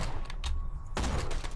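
Gunfire in the video game Borderlands 2, with several sharp shots in quick succession, a short gap, then another burst, loud and close.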